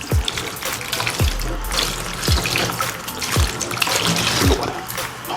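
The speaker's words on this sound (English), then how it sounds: "You can throw water upon it here. And here's the water." Water poured over freshly grated coconut on a grater and washed by hand: close, continuous splashing with regular soft low thuds about once a second.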